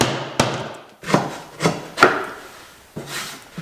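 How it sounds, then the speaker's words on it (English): A mallet drives a chisel to clear waste wood from notches cut for undermount drawer slides, giving five or six sharp, separate knocks spaced through the clip, close and fairly loud. "Now I'll simply take a chisel and mallet and remove this waste."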